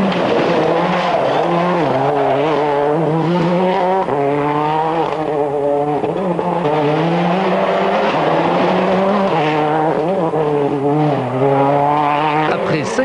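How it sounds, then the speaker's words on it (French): Ford Focus RS WRC rally car from 2002 accelerating hard on a snowy Swedish rally stage, its engine note loud, close and sustained for the whole stretch, rising and falling in pitch as it revs through gears. "Après 5 km, François accélère."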